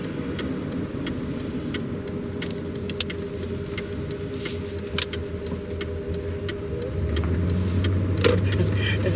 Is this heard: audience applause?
no